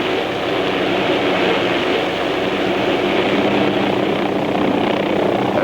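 An OH-6 helicopter during a maximum performance takeoff, a loud steady engine roar and rotor thrum that stays constant throughout, close and alone with no talk.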